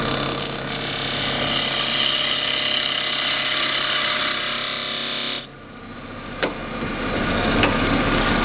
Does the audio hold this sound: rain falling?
no